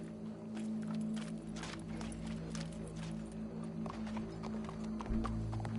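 Steady clip-clop of horse hooves in the video game Red Dead Redemption II, over a constant low hum, with faint background clatter throughout.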